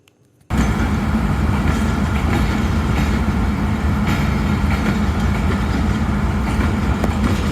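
The 15 Up Karachi Express passenger train starts moving out of Cantt railway station in Pakistan, a loud, steady rumble of rolling coaches that kicks in abruptly after a brief quiet moment and continues without a break.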